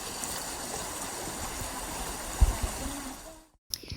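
A small stream runs over rocks, a continuous close rushing and gurgling with a few louder splashes near the end before it cuts off abruptly.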